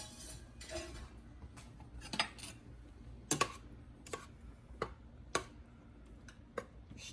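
Spoon or utensil stirring mango peach jam with pectin and sugar in a metal pot, giving scattered clinks and taps at an uneven pace over a low background hum, with no talking.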